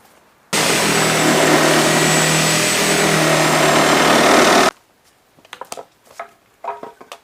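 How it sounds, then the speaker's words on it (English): A DeWalt Sawzall reciprocating saw trims fence boards outdoors, a loud, steady buzzing cut lasting about four seconds that stops abruptly, followed by quieter scattered clattering and handling noises. "the DeWalt Sawzall blade works good"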